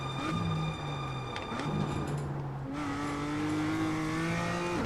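A BMW M2 race car on a warm-up lap at the Lédenon circuit, engine droning steadily from inside the cabin, pitch falling and then rising as it shifts and accelerates, continuous and fairly loud.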